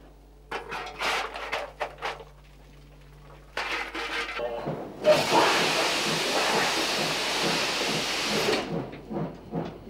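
Steam locomotive 62-015 stands at Dresden's main station being readied for a run. Scattered metallic clanks come first, then a loud, close, broad steam hiss rushes out for about four seconds before cutting off.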